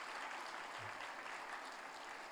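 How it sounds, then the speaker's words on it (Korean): A church congregation claps together in steady, dense applause that fills the room, continuous and even throughout with no voices on top. "우리 박수로 한번 미리 축하하겠습니다."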